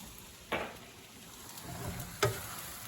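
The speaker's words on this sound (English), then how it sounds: "And then we stir." Brazilian stroganoff sizzles quietly in a pan, with two brief spoon scrapes or clinks against the pan as it is stirred, faint and close, without talk.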